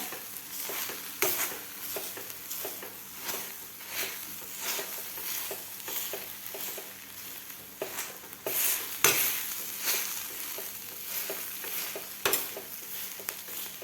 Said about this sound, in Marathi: आता आपल्याला मॅशरनं मॅश करून घ्यायचं आहे